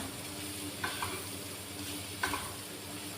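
Spices for a milk curry being roasted and stirred in a pan on low heat give a quiet, even sizzle with two distinct spoon scrapes spaced apart, up close and free of speech.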